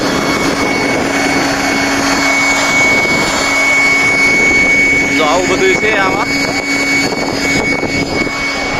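Air pump inflating an inflatable disco ride boat at Shivrajpur Beach near Dwarka, a loud continuous whining drone with a steady hum, while people talk nearby.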